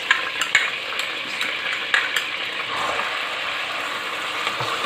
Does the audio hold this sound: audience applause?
no